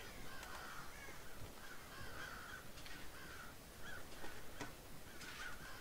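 Crows caw repeatedly in the stealth video game Thief, a series of harsh calls over a steady ambient background, with no speech.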